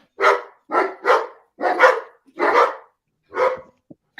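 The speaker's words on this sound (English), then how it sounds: "Loud dogs." Several dogs bark in loud, close bursts, about seven sharp barks in an uneven rhythm over four seconds, with brief gaps between them and no talking.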